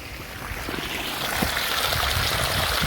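Irrigation water rushes steadily into an onion bed on a farm, a continuous close gush and trickle that swells slightly toward the end.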